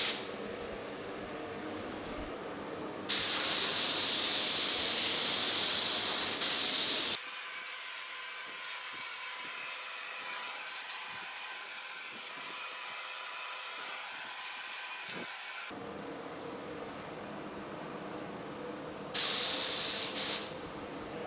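A spray gun lays a primer coat on a 1950 Chevy truck in two loud, steady hissing bursts, each lasting several seconds, separated by a quieter stretch of lower mechanical hum.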